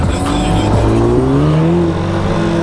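A tuned 400 hp Audi S3 revs loudly up close, its engine note climbing and wavering in a strong, raspy tone with a brief tire chirp.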